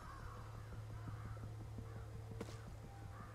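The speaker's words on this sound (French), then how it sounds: "Ouais, on voit les corbeaux." Crows caw in the video game Ghostwire Tokyo, a series of harsh repeated calls at a moderate distance over a low steady drone, quiet overall and with no talking.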